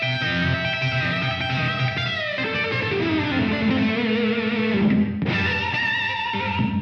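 Electric guitar played through a Digitech RP1 preset with room reverb, distorted chords and sustained notes ringing out with a short room tail, a few chord changes with no talk.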